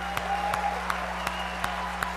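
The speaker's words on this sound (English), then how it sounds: "Let's have a round of applause for all of our league major award winners." Steady applause from an awards-show audience honoring league major award winners, a dense continuous clapping wash with a few sharper claps standing out at regular intervals, moderately distant and without speech.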